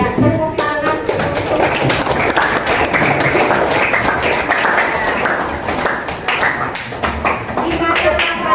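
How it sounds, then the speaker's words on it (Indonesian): A class of students clapping hands at an Indonesian school counseling session, a lively stretch of clustered claps close by, mixed with children's voices and chatter throughout. "Ya, tepuk tangan."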